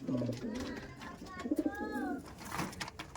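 Pigeons coo in a loft in deep, throaty, rolling bursts, close and clear, with a voice briefly heard in the middle.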